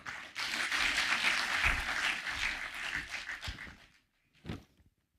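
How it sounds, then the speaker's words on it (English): Sustained applause from an audience at a forum on ending illicit brew, full and steady for about four seconds before cutting off, followed by a couple of faint stray claps. "Let's give him another round of applause"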